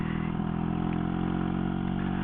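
An old motorcycle, leaking oil, ridden gently along a narrow back lane between English villages, its engine giving a steady, continuous low drone at close range with no talk over it.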